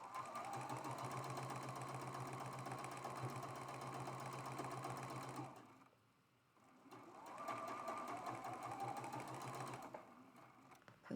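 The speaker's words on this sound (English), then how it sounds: "I'm just doing some chain piecing, lining up the edges of my triangles, and sewing that with a 1/4 inch seam allowance" Sewing machine chain piecing quilt triangles with a quarter-inch seam: a fast, even motor whir that runs for several seconds, stops briefly, then starts again for another stretch before halting.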